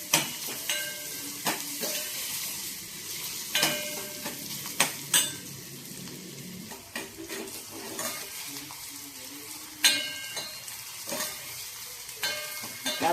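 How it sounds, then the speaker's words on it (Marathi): Onion sautéing in oil with a pinch of asafoetida in a home kitchen, a steady low sizzle broken by repeated clinks and scrapes of a spatula stirring against the pan. "कांदा व्यवस्थित अगदी परतून चांगला शिजवून घ्यायचा आहे तेलावर"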